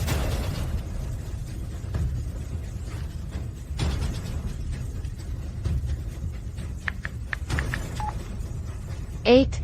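A telephone keypad sounds a quick burst of dialing tones near the end, following a stretch of background noise and a few sharp pops and clicks.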